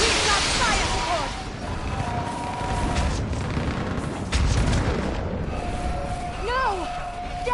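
Booming gunfire and fire support during a battle in Mass Effect 3, heavy blasts rumbling under continuous combat noise, with shouted voices and whistling sounds over the fight.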